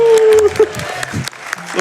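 Crowd applause at the Awesome Games Done Quick speedrun marathon during a Wind Waker run, a brief burst of clapping under close commentary voices.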